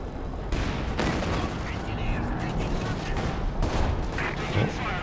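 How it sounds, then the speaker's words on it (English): Artillery barrage in Company of Heroes 2, a 1v1 match, with dense rolling gunfire and booming impacts running continuously under a commentator's voice. "dropping the artillery onto the KV, forcing it away"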